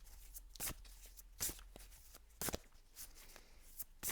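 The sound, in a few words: shuffling tarot cards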